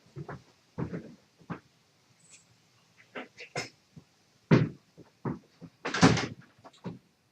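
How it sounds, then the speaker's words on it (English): A workshop door is shut in a woodworking shop, with a series of irregular knocks, bumps and clatters, some sharp, spread out between quiet gaps. "So I'm going to shut the door."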